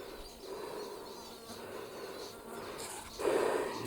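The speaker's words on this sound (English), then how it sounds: "You can hear a lot of birds over here." Faint bird calls and insect buzz drift through a desert gorge with steady breezy hiss, the chirps scattered and distant, a slightly louder call rising near the end; no one speaks.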